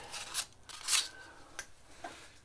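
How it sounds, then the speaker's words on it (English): Hand sanding with a 220 grit sanding pad meant for an orbital or DA sander, working by hand on a 1969 Mustang that sat for 15 years: a few quiet, close, uneven raspy strokes, each a short scratchy swipe. "It's actually a sanding pad for orbital sander or DA sander."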